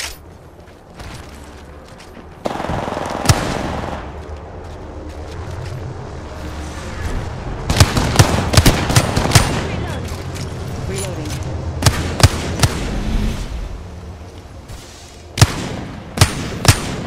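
Bursts of video game gunfire crack out in clusters of sharp shots over a rumbling battle background, with quieter stretches between volleys and a few loud isolated hits near the end.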